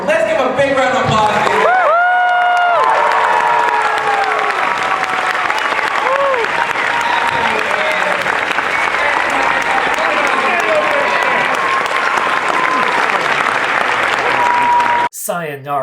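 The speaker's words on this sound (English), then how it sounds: "Let's give a big round of applause." Audience at a Comic-Con convention panel for Teenage Mutant Ninja Turtles breaking into loud, sustained applause with scattered cheers; a voice speaks over the start before the clapping carries on and cuts off abruptly near the end.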